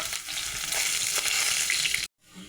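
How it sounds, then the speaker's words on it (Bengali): Eggplant fries in oil with black cumin (nigella seeds), a loud, close, crackling sizzle with stirring that cuts off abruptly near the end. "এবার ওই তেলে দেবো কালো জিরে আর বেগুনটাকে ভেজে নেবো।"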